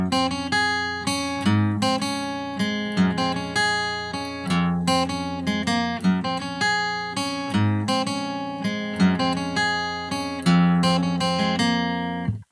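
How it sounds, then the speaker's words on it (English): A guitar plays a repeating riff, with bright plucked notes in a steady, bouncy rhythm that repeats several times, clear and alone. "And that right there is that full riff."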